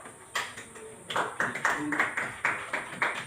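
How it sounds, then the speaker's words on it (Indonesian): Classroom students clap for a classmate in a loose, uneven series of fairly faint claps that grows into a steadier rhythm, with a low background hum. "Tepuk tangan dulu untuk Petro."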